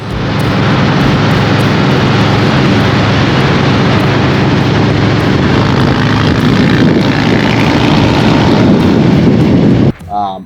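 Car exhaust fitted with Tab Performance 4.5 mufflers with straight-cut tips and 2.5 medium baffles, giving a loud, steady, close-up roar for about ten seconds before cutting off abruptly.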